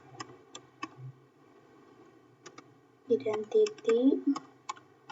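Sparse, sharp keyboard taps sound at uneven intervals while a system name is entered for a router setup, with a person talking over the middle stretch.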